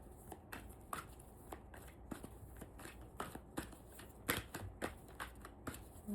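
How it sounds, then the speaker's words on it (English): Tarot cards shuffled by hand, a close, quiet series of crisp riffles and soft slaps in uneven quick bursts. "Let me shuffle a little more."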